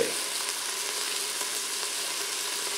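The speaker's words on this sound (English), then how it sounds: "we're going to cook this for a few minutes until everything softens, and it's just like a regular saute pan" Spices and aromatics sauteing in an Instant Pot with cilantro seed and oregano, a steady close hiss of frying without distinct stirring strokes.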